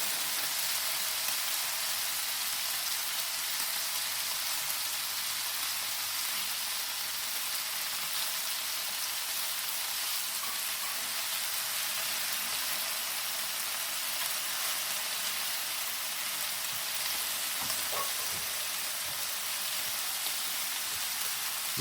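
Bacon frying on a Blackstone 22-inch E-Series electric griddle, a steady, even hiss of fat sizzling for the whole stretch with barely any change; no talking.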